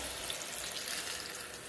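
Chile salsa poured into a hot, greasy, salty pan after frying chips for chilaquiles, hitting the oil with a steady, loud hissing sizzle like rushing water that holds the whole time. No one speaks.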